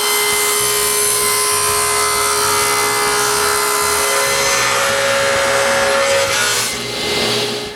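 Pieces of wood are being cut at 45-degree corners, giving a loud, continuous, close-up sawing sound with a steady pitched whine that runs through nearly the whole stretch before it tails off at the end.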